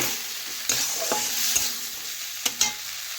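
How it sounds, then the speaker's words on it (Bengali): Spice paste stirred with onions and tomatoes in a frying pan for a broccoli dish: a steady soft sizzle with a few sharp spoon scrapes and clinks against the pan, close and alone. "এখন মশলা একটু নাড়াচাড়া করে পেঁয়াজ ও টমেটোর সাথে মিশিয়ে নিচ্ছি।"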